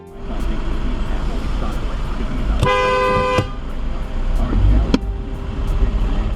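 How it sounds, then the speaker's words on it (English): A single long car horn blast sounds over steady road and engine noise, with a short toot following shortly after. "So finally I honk."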